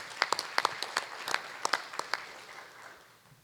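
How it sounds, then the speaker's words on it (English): Scattered applause from a small audience at a Board of Education meeting: a few sharp, uneven claps that thin out and fade within a few seconds. "I'd like to give a round of applause to Maggie Slover."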